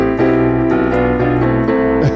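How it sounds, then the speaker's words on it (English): Piano playing chords with left-hand octaves, sounding as a short sequence of loud, sustained struck chords in an even rhythm, close and clear, with no talk. "This piano sounds like this."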